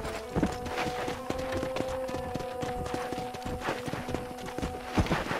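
Horse hooves in the video game Red Dead Redemption, a steady run of clip-clop footfalls at moderate loudness alongside a continuous tonal game score, with no speech.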